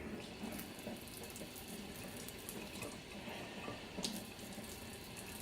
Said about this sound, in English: we're going to do a 1/4 cup of water.